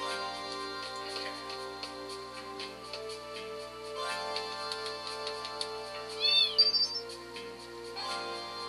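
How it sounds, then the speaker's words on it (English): A cat in Final Fantasy VIII gives a few short, high meows partway through, heard over steady, quiet game music. "Hey, there's a cat up there."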